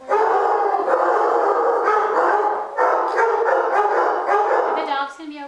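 A dog barks and howls repeatedly, loud and near, in long drawn-out bursts with short gaps, with voices mixed in.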